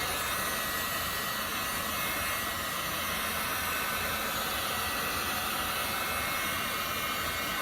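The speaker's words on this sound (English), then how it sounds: "little bit with the hair dryer or heat gun" A steady, broadband whoosh of a heat gun blowing hot air to warm the door area of a Hyundai Veloster N during front bumper removal, constant and fairly close, with no talking.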